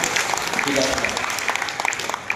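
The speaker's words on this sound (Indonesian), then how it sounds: "Berikan tepuk tangan untuk para tujuan" Scattered applause from an audience at a government tax coordination meeting and launch event in Jombang patters along while a voice keeps talking over it.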